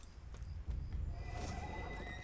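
A horse neighs in the fantasy online game DDO, a short whinny rising over a low rumble of hooves and ambient game sound.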